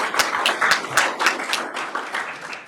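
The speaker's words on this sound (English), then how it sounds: "Huge thank you and round of applause for our speakers." Audience applause for the speakers at the end of a conference session on investing in AI: a dense, steady burst of many hands clapping in a hall, fairly loud and unbroken for the whole stretch.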